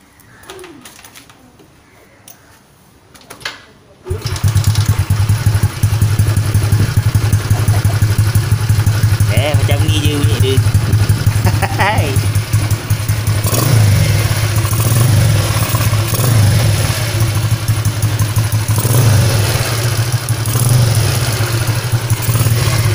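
An LC4S motorcycle with a 62 spec engine and a UMA Racing back pressure exhaust fires up after a few quiet seconds and holds a loud, close, rumbling idle, with slight rises in revs, for the rest of the clip.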